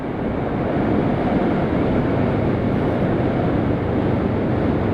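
Kawasaki motorcycle engine, a Z650 or Z400, while riding and shifting gears: a loud, continuous roar with wind rumble that holds steady the whole time.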